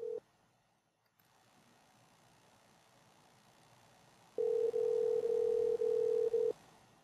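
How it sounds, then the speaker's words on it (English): An outbound phone call placed through an Amazon Connect click-to-dial adapter in Salesforce: a brief tone, quiet line hiss, then a steady ringback tone sounding in repeated pulses, loud and alone. "You'll see now it's making an outbound call to the customer."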